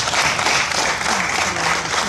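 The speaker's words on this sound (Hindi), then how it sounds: "जोरदार तालियां।" An audience at a street-naming ceremony in New York breaks into loud, dense applause, steady clapping throughout.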